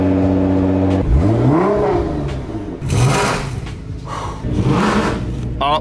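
A Mercedes C63 AMG V8 with headers and a full exhaust revs hard several times, the loud exhaust rising and falling in pitch with each throttle blip, and a sharp crackle near the end.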